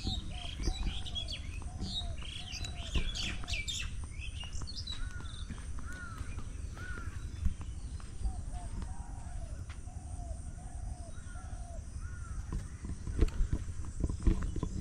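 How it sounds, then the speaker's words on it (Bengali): Doves coo in repeated soft phrases from a distance along a quiet village road in rural Bangladesh, with other small birds chirping higher up and a low background rumble. "অনেক দূর থেকে ঘুঘুর ডাক ভেসে আসছে।"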